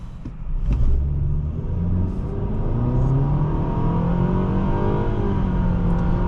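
A 2023 Nissan Sentra SR accelerates hard from inside the cabin, a steady engine drone and road rumble building continuously with no voices.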